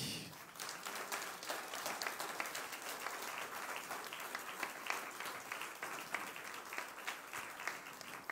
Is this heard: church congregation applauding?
yes